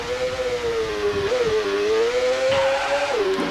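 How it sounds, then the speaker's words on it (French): Motorcycle racing in the Super Famicom game GP1 by Altus: a steady synthesized engine whine holding one pitch, dipping and rising with gear shifts, loud and continuous with no speech. "une simulation de moto pour Super Famicom"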